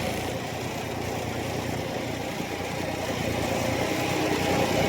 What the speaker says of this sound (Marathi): ट्रॅक्टर आहे आपल्याकडे बावन्न दहा गेअर प्रो सी सेकंडमध्ये पेरत आहे